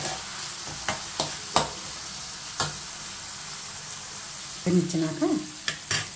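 Chana dal fries in a pan with a soft, even sizzle, punctuated by several sharp stirring clicks and a brief spoken word near the end.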